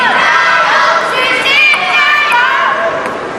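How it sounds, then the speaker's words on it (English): A packed arena crowd cheers and shouts for Xu Xin at the 2014 China Open men's singles semifinal table tennis match, a loud sustained roar of many voices with excited high-pitched yells that fades slightly at the end. "A lot of cheers for Xu Xin that time."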